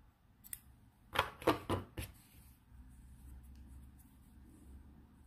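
Scissors snip through blue crochet yarn close by, giving a quick run of three or four sharp crisp cuts followed by quiet handling noise.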